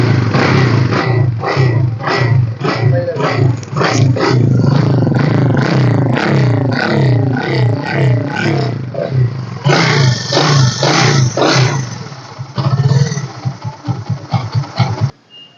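A 2016 Vikrant V15 motorcycle with a weak battery is kick-started and its engine revved, a loud, close, continuous clattering engine note with repeated throttle blips and rising revs throughout.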